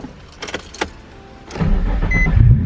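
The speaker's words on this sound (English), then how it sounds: "Get this cold start." Nissan 350Z engine cold start: a few clicks and key rattles, then the starter catches and the engine roars up to a rough, loud, close high idle.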